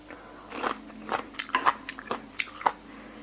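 Khanom chin rice noodles with fish curry eaten by hand, with close, soft chewing, crunching and wet squishing bites in an irregular rhythm and no talk.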